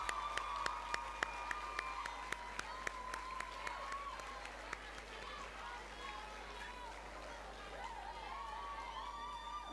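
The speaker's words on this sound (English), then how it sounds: "Keep the applause going for her" Audience applause at a school valedictory service, with sharp individual claps standing out early over a steady wash that holds through the clip, moderately loud, with voices murmuring underneath.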